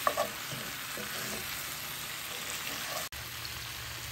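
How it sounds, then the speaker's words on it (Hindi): Salt and turmeric being stirred into pumpkin sabzi in a pan, a soft continuous frying hiss with a few quick scraping strokes near the start, low and close, with no voices. "अब मैं इसमें नमक और हल्दी अच्छी तरह से मिक्स कर रही हूँ"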